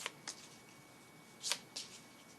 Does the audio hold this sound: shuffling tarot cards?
yes